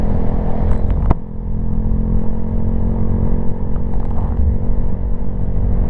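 Motorcycle engine running steadily during gear changes while riding, a continuous close engine drone with one sharp click of a shift partway through.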